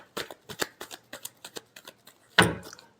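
Tarot cards are shuffled in a quick run of about a dozen crisp, close riffling taps, ending in one louder flutter of cards, with no talk over it.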